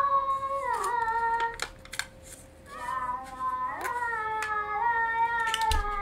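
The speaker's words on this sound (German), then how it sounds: "Und die kleine Katze, die ist so niedlich." A kitten in The Sims 4 meows several times with bright, sliding cries, some short and some drawn out, clean and close with brief ticking sounds between.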